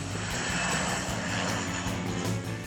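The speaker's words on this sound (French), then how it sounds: "À Saint-Jean, les avions qui décollent ou atterrissent font partie de l'animation." An airplane taking off or landing right by Saint-Jean beach on Saint-Barthélemy, its engine a loud, steady roar that fills the whole moment with no voices over it.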